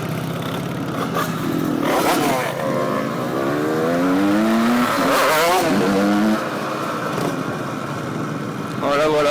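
A Yamaha DT 75 motorcycle engine revs up and down, rising and falling whines over a loud busy background of other engines, with a voice speaking between revs.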